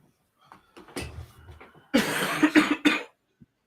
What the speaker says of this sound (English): Let him cough his guts up in the corner.